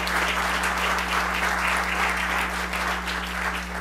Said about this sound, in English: so please, we need to give them a round of applause.